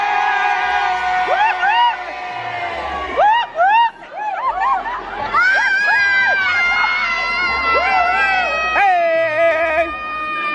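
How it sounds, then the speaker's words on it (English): A concert crowd by a stage cheers, whoops and shouts in loud, dense waves of high voices, with swelling yells over steady background roar. "And there's the crowd. Say, hey, crowd."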